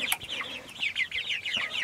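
Young chicks at a pasture-raised poultry watering system, a busy run of high chirps and soft clucks close by, with no talking.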